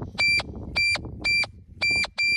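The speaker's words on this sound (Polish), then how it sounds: "to piknięcie to jest tylko włączenie, wyłączenie toru" Repeated electronic beeps from a Nexus MPV3 analog metal detector being swept over iron: five short, bright tones at a steady rhythm, close and clear against quiet background.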